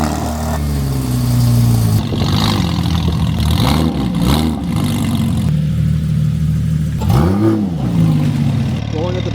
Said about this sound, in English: Now I need a cold start on the GT4,